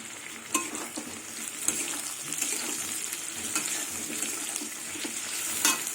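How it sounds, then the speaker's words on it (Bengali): Vegetables frying together with garlic in a pan, a close, steady hiss and sizzle broken by regular scraping stirs and light clinks of the spatula. "রসুন আর সবজি সব একসাথে ভাজা হয়ে গেছে"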